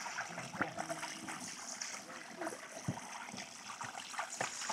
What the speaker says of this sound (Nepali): यो चाहिँ हाम्रो सानो झरना